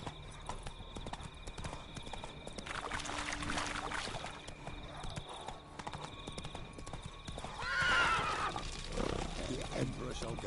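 A horse in The Witcher 3 gallops with steady rapid hoofbeats under game music and ambience, and a loud neigh rises near the end while a voice talks over it.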